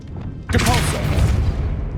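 A Depulso spell impact in the video game Hogwarts Legacy lands as one sudden deep boom, followed by a sustained rumbling crash that gradually settles.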